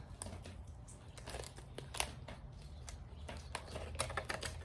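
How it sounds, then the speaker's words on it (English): Tape being torn and pulled to seal a container for winter sowing seed starting, giving a run of crinkly crackles and sharp rips close up at a steady low level, with no talk. "It's hard to tear the tape off."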